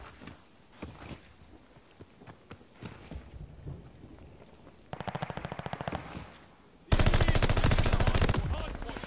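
Gunfire in Call of Duty Vanguard ranked multiplayer: quiet scattered shots and footsteps early, then rapid automatic bursts building into a loud sustained volley near the end.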